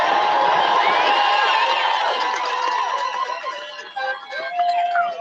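A large outdoor crowd at a political rally in Milk River/Coutts, Alberta, cheers, whoops and whistles loudly and continuously, the roar thinning slightly toward the end.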